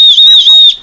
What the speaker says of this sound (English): There's also a sternum strap like that with the obligatory Osprey danger whistle.